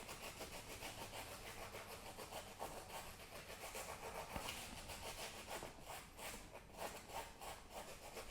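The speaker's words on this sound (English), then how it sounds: "we're going to be using a wire brush. You don't want too harsh of a wire brush for this" A soft wire brush scrubs dead skin off a freeze-dried turkey head on a workbench, a faint, continuous close scratching with rhythmic back-and-forth strokes and no speech.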